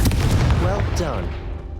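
A Confringo fire spell blasts in Hogwarts Legacy, a dense roaring burst of sound lasting the whole moment, loud and close, with a voice mixed in.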